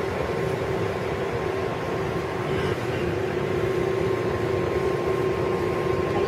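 Steady rumbling roar of an R188 New York City subway train on the 7 local line in motion, with a constant low hum and a faint tonal whine running throughout.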